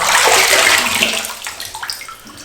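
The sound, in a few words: water poured out of a wet boot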